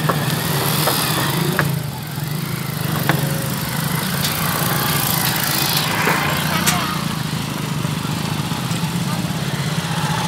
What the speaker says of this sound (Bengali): এই নৌকা পার হচ্ছে আমরা এখন।